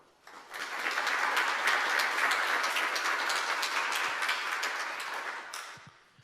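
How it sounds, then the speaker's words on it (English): A community audience applauds event sponsors, a dense burst of clapping that swells quickly, holds strong and steady for several seconds, then tapers off near the end. "I'd like a round of applause for all of our sponsors who have made this possible."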